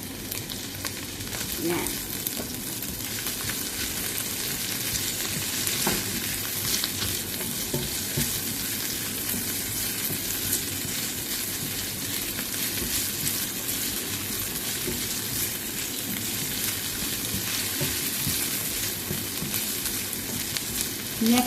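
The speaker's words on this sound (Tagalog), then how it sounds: "Ayan, natunaw na yung butter natin guys. Lalagay na natin yung sibuyas." Onion frying in melted butter for chicken menudo, a steady close sizzle with faint crackles running unbroken for over twenty seconds, with a brief spoken word near the start.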